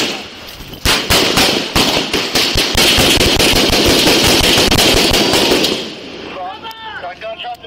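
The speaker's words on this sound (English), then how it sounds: "Got gunshots in the woods, guys." Rapid, loud gunfire rings out in a wooded area during a police response to a mass shooting, with dense overlapping volleys of shots followed by sirens and officers shouting.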